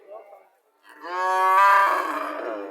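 A black PGM-breed dairy cow gives one long, loud, close moo that swells and fades, preceded by a brief low grunt and a short pause.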